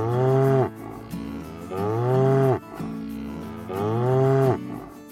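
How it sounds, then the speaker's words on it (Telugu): Three loud, drawn-out cow moos from a village farm setting, each a long harmonic bellow rising and falling, separated by brief pauses, close and clear with no talking. "అది చూసి ఆవు గట్టిగా అరుస్తూ ఉంటుంది"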